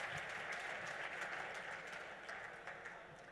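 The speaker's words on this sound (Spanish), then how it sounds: "Por favor, un aplauso para él" A faint, distant round of applause greets a speaker at a cybersecurity conference, a soft continuous patter of clapping that tapers off over a few seconds.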